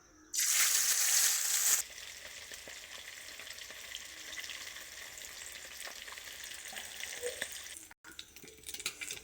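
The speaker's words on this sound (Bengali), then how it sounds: "হয়ে গেছে মাছ ভাজা সব" Amudi fish frying in hot oil for a potato and eggplant curry, with a loud burst of sizzling as the pieces go in, then a steady, quieter crackling hiss close by.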